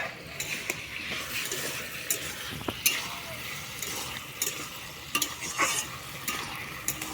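Ridge gourd cooked with local fish is stirred in a pan, giving a steady, close sizzle broken by frequent scraping strokes and light clinks of the spoon against the metal.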